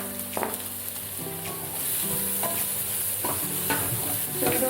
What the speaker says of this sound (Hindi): बस इसको ऐसे ही फ्राई करना है।